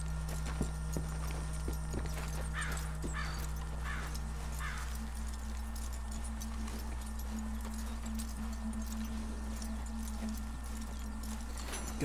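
Steady clip-clop of horse hooves trotting at an even pace in Red Dead Redemption 2, beneath a constant low hum, with a few faint jingling accents.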